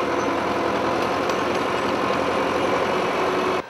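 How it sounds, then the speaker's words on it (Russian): A tractor ploughs firebreak strips in a forest, its engine droning steadily and loudly from up close, with a rough, continuous mechanical rumble and no voices. "в лесу у Рощина пашет трактор"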